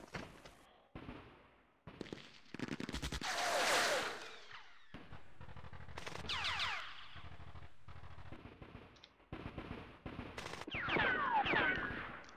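Gunfire rounds from a World War II strategy game, Rising Sun's Operation Shoestring, crack out in scattered single shots and short rattling bursts, fairly quiet, with brief gaps between volleys.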